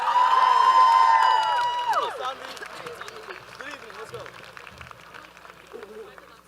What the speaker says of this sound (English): Can I have a huge round of applause for Sanvi Gupta?